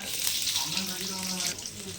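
Chopped onions sizzle in hot oil in a pan while preparing a quail pepper gravy, a steady close crackling hiss with voices speaking over it.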